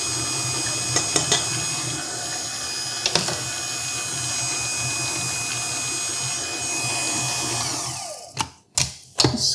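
A Kitchenin 5.3-quart stand mixer with a 400-watt all-metal DC motor runs steadily with a whirring hum, close and continuous, with a few clicks before cutting off near the end amid short knocks.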